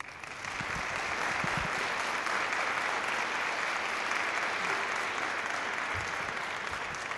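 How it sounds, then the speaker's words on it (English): An audience at a gala at the National Building Museum breaks into sustained applause welcoming Fred Wacker to the stage, a dense even roar of many clapping hands held steady for several seconds. "Please join me in welcoming him to the stage with a round of applause"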